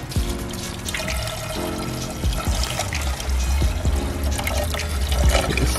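Liquid poured from a jug to fill up a Ford Fiesta, a continuous close gurgling and trickling stream with small splashes, running steadily throughout.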